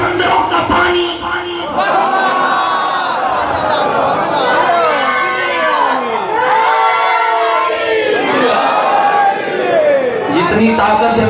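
A large crowd at a Muharram religious gathering shouting slogans back in unison, loud overlapping voices rising and falling in waves for several seconds with brief pauses between.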